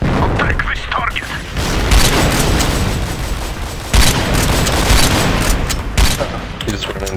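Rocket explosions and gunfire in the battle game Empires on the Tropic Vendetta map: loud repeated booms and rapid shots over a continuous roar of combat, with a voice talking in the mix.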